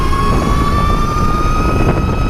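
Energica EGO electric motorcycle accelerating hard, a loud, steady high-pitched electric motor whine with rushing wind roar, close and continuous.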